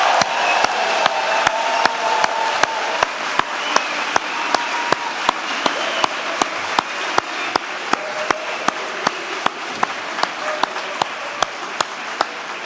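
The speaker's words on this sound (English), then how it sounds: "let's take one more moment for a giant round of applause for all our candidates and their degrees" A graduation ceremony audience gives a long, steady round of applause for degree candidates. Dense, loud clapping fills the hall, with a faint murmur of voices underneath.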